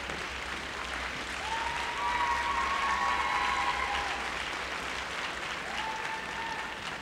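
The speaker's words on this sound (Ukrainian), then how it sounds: "Ваші оплески, Яна Луконіна, Росія." An audience applauds at a rhythmic gymnastics competition, the Deriugina Cup hoop event, with a dense, sustained clapping from a large arena crowd that swells slightly and holds steady throughout.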